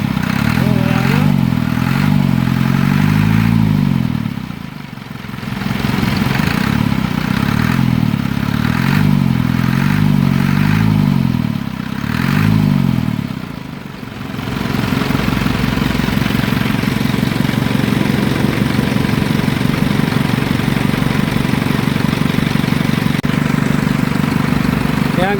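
Isuzu 4HF1 diesel engine, previously misfiring and blowing white smoke, running after a fuel filter replacement: a loud, steady close-up clattering rumble that briefly dips twice before settling into an even run.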